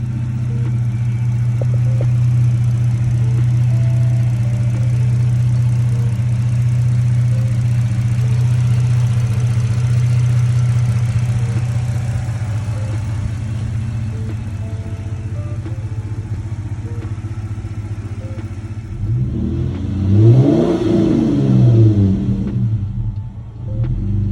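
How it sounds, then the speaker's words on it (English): A car engine, freshly filled with oil after fitting an oil catch can, idles with a steady low rumble for a long stretch, then briefly revs up and settles near the end. "We got the oil in the engine, we started it up."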